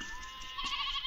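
Goat- or sheep-like bleating from livestock being herded in a comedy scene, heard in short wavering calls that swell louder near the end over continuous background noise.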